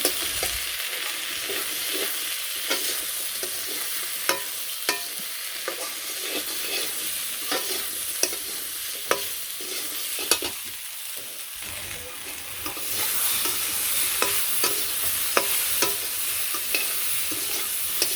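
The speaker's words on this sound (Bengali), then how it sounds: "হলুদের ফাঁকি মরিচের ফাঁকি আর এই যে ধনিয়া ফাঁকি এইসব দিয়ে আরেকটু কষিয়ে নেব" Turmeric, chili and coriander powders sauté in a hot pan in a village kitchen, a steady close sizzle broken by repeated scraping stir clicks of a spoon, growing a little louder toward the end, with no talking.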